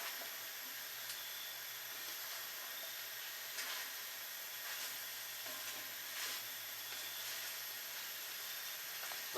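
Onions and squash with sausage cook in a skillet, a faint steady sizzle and hiss with a few soft scraping stirs, quiet and continuous.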